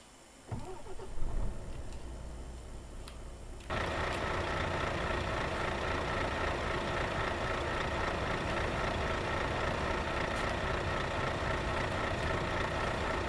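A Volvo FH16 700hp 2014 truck in Euro Truck Simulator 2 starts with a short cranking burst, then settles into a steady, continuous engine drone that holds at an even level to the end.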